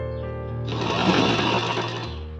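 A sewing machine stitches a blouse sleeve, beginning with a low motor hum and then breaking into a fast, dense run of needle clatter that holds for about two seconds, close and alone.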